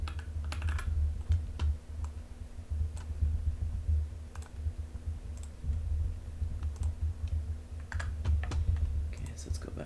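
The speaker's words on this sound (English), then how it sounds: "Actually, let me just type" Typing on a computer keyboard, scattered light clicks and short runs of keystrokes over a steady low hum, with a person talking quietly in the background.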